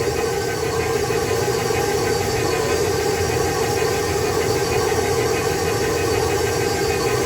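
Stand mixer motor running on its lowest setting while kneading stromboli dough, a steady, loud, even mechanical hum and whir that holds without a break throughout.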